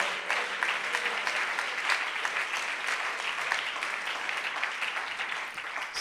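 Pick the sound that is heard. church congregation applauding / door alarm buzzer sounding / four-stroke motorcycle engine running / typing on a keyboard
church congregation applauding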